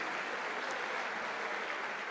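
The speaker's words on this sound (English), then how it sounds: "she deserves a bit of applause for the way she played yesterday" Steady, fairly quiet applause from the spectators at a junior world squash championship, a continuous even patter of clapping with no peaks or breaks through the short stretch.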